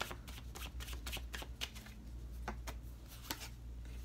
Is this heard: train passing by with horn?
no